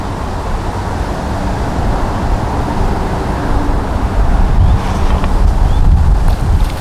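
Wind blowing at a lakeside fishing peg during a carp match, a steady broadband rush that swells slightly louder toward the end, with no talking.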